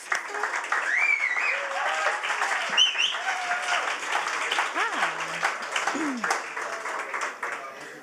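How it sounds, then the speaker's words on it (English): At a storytelling evening, the audience gives a performer a round of applause, steady and sustained throughout. Voices and cheers rise over the clapping. "please give her a big round of applause"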